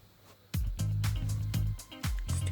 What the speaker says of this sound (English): My finger being tapped on the microphone.